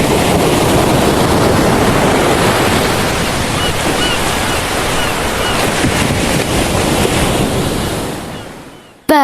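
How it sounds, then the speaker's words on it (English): Waves crashing on a beach, a steady loud roar of surf with wind buffeting throughout, cutting off abruptly at the end. "The crashing of waves on a beach."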